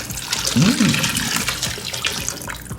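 Water and chicken stock splashing and gurgling as they are poured into a stew pot, a steady close liquid rush with someone talking over it.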